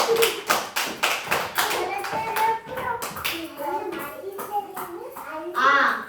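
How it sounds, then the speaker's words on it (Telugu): A burst of rapid, close hand clapping from several children, fading into children's chatter and a brief cheer at the end. "క్లాప్స్ కొట్టండి"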